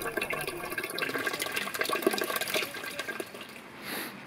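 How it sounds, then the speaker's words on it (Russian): Hydrogen sulfide spring water at Kemeri landscape park in Jurmala pours steadily into mugs, a continuous close splashing trickle with no talk. "Подставляем кружки и дегустируем сероводородную водичку"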